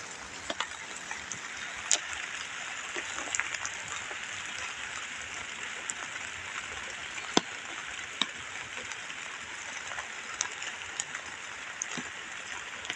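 Steady rain falls on a strawberry farm, a continuous hiss with scattered louder drips and taps landing nearby, heard alone without talking.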